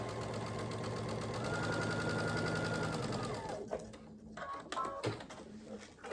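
A home sewing machine stitches a diagonal seam across quilt squares, running in a steady close whir for about three and a half seconds before stopping, followed by quieter handling noises.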